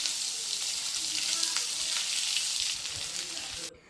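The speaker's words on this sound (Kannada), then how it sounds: "ನೀರುಳ್ಳಿ ಚೆನ್ನಾಗಿ ಇಲ್ಲಿ ಫ್ರೈ ಆಗಬೇಕು." Chopped onion and garam masala fry in hot oil for palak paneer, making a loud, bright, even hiss that holds steady and then cuts off abruptly near the end.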